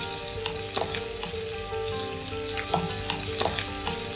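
Palakkad chicken varuval stir-frying in a pan: a dense, continuous sizzle with recurring light clinks and scrapes from stirring, close and fairly even throughout.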